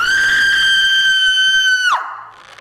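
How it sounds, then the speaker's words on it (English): A woman lets out a single piercing, blood-curdling scream, loud and close, held on one shrill sustained pitch for nearly two seconds before breaking off abruptly and trailing into a brief ragged fade. "It was a scream so blood-curdlingly sharp"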